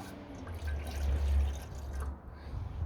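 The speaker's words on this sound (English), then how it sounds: "So water goes in, we'll bring that to a boil." Water pours into a Trangia 25 cooking pan outdoors in a back garden, a short continuous splashing trickle with a low rumble underneath, close and fairly loud.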